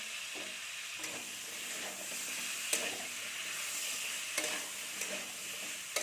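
Potato, eggplant and pumpkin pieces with salt and turmeric fry in oil, making a quiet, steady sizzle with repeated scraping stirs and occasional sharp clicks of a utensil against the pan.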